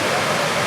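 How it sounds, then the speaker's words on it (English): A small waterfall in Yellowstone National Park pours in a steady, dense rush of white noise, close and fairly loud, with no voices in the brief moment. "Little waterfall"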